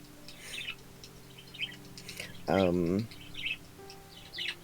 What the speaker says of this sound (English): there's too many birds